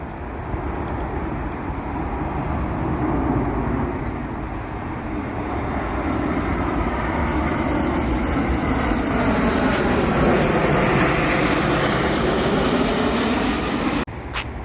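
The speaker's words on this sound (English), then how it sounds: "And here's another airplane." Airplane passing overhead near Balboa Park in San Diego, a broad steady engine roar that holds loud for the whole stretch, slowly swelling and shifting, with outdoor ambience beneath.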